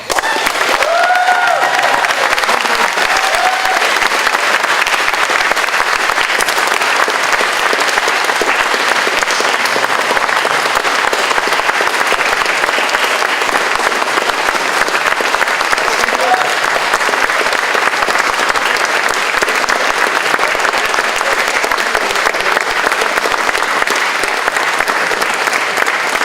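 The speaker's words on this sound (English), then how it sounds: "Please, all loud round of applause." Sustained loud applause from an audience at a horror film festival after an interview with George Romero, steady clapping from a large crowd that carries on without a break for the whole stretch.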